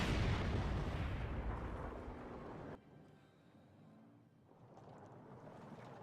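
Heavy cannon blasts from a StuG assault gun in a World War II video game, a loud booming shot with a long rumbling decay, then a quieter stretch of distant battle noise.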